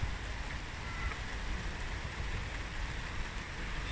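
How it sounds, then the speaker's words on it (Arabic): Heavy rain falls near waterfalls while crossing a bridge on a mountain trip, a dense, even hiss filling the whole stretch with no talk. "أمطار غزيرة الآن"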